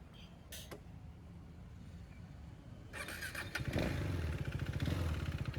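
A KTM Duke 390 motorcycle engine starts up close by after some faint creaks, then settles into a steady, rapid, throbbing idle that grows louder. No one speaks.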